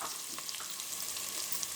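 Carrots, beans and green peas hit a hot frying pan for vegetable upma, giving a steady close sizzle with soft stirring scrapes throughout, no talking.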